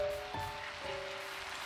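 Rain starting to fall in the video game Minecraft: a faint, even hiss with a few soft tonal notes over it, no voices.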